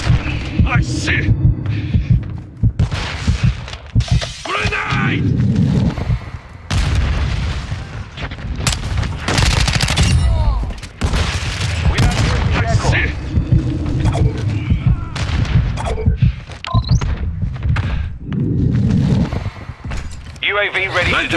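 Dense, heavy gunfire and booming blasts from a Call of Duty MW2 Ground War match, with loud explosions and bursts rolling almost nonstop under shouted radio-style voices.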